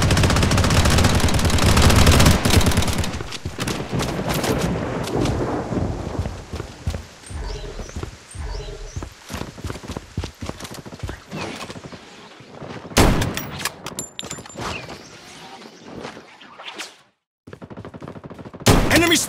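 Rapid gunfire bursts from Project:BloodStrike, a mobile shooter, loud and dense at first, then scattered shots and impacts, with game alerts and effects between volleys.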